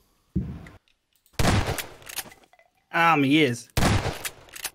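Gunfire in the video game Garry's Mod Prop Hunt crackles in several short, loud bursts separated by silence, with a voice speaking between them.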